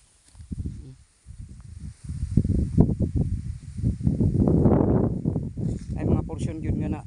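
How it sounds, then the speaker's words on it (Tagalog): Strong, gusty wind ahead of a typhoon blows through flowering crop plants, rumbling and buffeting close by in uneven surges. "kusog kaing hangin na diri"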